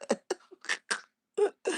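A livestreamer coughs in a quick series of short, close, sharp bursts separated by brief pauses.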